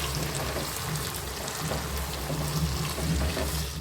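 Chopped tomato frying in oil for a Lotte fish jhuri, a dense continuous crackling sizzle, close and even throughout.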